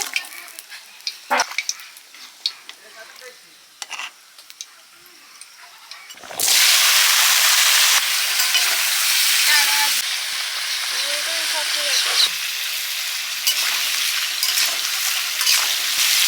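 Snakehead fish drops into a hot pan of oil and bursts into a loud, sustained sizzle that keeps crackling steadily after a few seconds of quiet kitchen handling noises.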